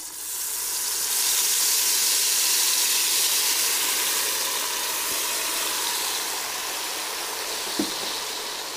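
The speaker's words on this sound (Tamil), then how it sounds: "இப்போ இது எண்ணெயில் ஊற்றிடலாம்." Ground herbal juice poured into hot oil on a stove set to simmer, giving a loud, steady broadband sizzle and hiss that swells early and holds for several seconds before easing slightly, with a brief sharp tap near the end.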